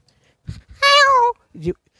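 A voice imitates a peacock with one loud, drawn-out nasal wail, framed by short vocal sounds just before and after.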